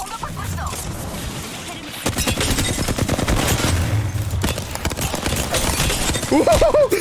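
Weapon fire in the video game Apex Legends, rapid bursts of shots that grow louder after the first two seconds and carry on densely to the end, with a voice heard near the close.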